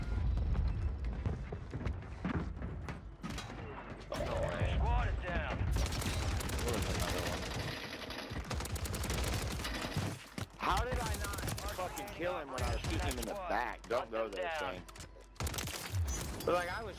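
Sustained LMG fire in Warzone rattles in dense bursts with short breaks, mixed with game effects, while a player's voice talks over the action.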